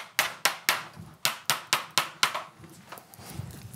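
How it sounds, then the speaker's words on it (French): Sharp, regular hammer blows drive wooden dowels into wood, about nine evenly spaced knocks, close and loud, then softer taps as they die away. "Avec un marteau, vous allez les insérer."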